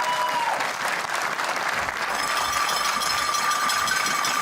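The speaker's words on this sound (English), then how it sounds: "Round of applause for Jenny Stenner." Audience applause at a women's 10m air rifle final at a European championship in Hamar, Norway, steady sustained clapping filling the hall throughout.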